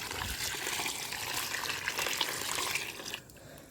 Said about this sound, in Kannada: ಇದ್ರ ತುಂಬ ನಾನು ನೀರನ್ನು ಹಾಕೋತೀನಿ